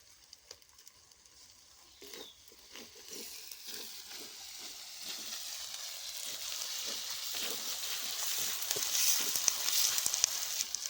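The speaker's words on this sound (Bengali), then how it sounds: "এগুলো আমার হালকা ভাজা হয়ে গেল" Tomato paste fries with ginger-garlic in a hot pan, giving a hissing sizzle that swells steadily louder and denser over the stretch, with faint scrapes of stirring early on.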